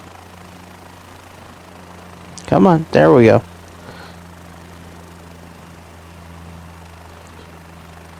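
A rotary aircraft engine in Microsoft Flight Simulator 2024 hums as a low, steady drone throughout, with someone briefly speaking over it in the middle.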